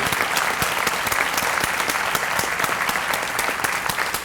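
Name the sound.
audience applause for high school guidance counselors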